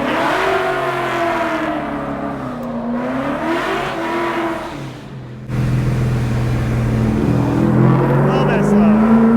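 A Ford car drifts at the 2021 Holley Ford Festival, its engine revving loudly and continuously, pitch swinging up and down through repeated throttle stabs before surging louder, with voices talking over the roar.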